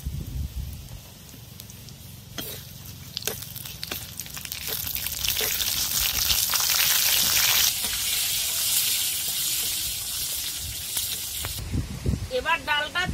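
Cumin seeds temper in hot oil over a village clay stove, with a crackling sizzle that swells in the middle and stays loud and close, then eases near the end.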